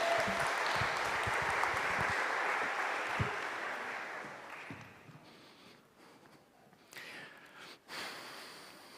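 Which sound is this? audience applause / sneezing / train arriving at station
audience applause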